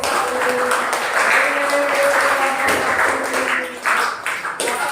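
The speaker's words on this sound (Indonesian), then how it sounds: "Tepuk tangan dong buat kelompok 1." Students clap for a group in a classroom during a teaching practice lesson. The applause is dense and continuous and fairly close, with some voices mixed in before it tapers near the end.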